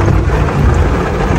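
Steady rain falls outdoors during a family trip back to the hometown, a dense, continuous broadband wash with a loud low rumble, like a heavy downpour or wind buffeting the mic, with no pauses across the whole stretch.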